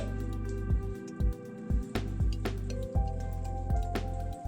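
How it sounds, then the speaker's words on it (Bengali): A batter of semolina and flour is mixed with water for a breakfast dish, giving soft wet squishing and dripping sounds in irregular bursts, close and fairly quiet, with no talking. "জল দিয়ে ব্যাটার তৈরি করে নিচ্ছি"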